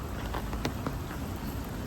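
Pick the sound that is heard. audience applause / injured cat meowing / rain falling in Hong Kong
rain falling in Hong Kong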